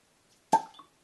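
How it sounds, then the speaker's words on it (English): A cork pops out of a Wiser's Legacy whisky bottle, close to the microphone: one sharp, hollow plop after near silence, followed by a short fading ring and a faint small clink. "get a nice cork pop for you guys, hopefully"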